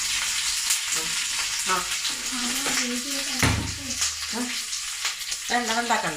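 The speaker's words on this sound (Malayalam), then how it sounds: "കറിവേപ്പില കൂടെ ഇട്ട് കൊടുക്കാം." Curry leaves sizzle with onion and chilli in a hot pan for Ettekya pullishery, a steady crackling fry with a spoon stirring and scraping nearby while someone speaks over it.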